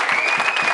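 Audience applause at a state representative campaign event fills the moment: dense, steady clapping from a crowd, loud and continuous throughout.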